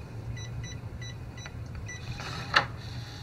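Samsung SHS-H630 digital door lock beeping, a quick run of short electronic keypad beeps followed by a brief mechanical locking clack, close and clear with a low hum behind it.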